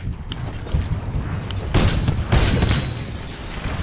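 Gunfire in the Titanfall 2 video game: dense, loud bursts of shots and booming impacts in a continuous rapid barrage, heaviest in the second half.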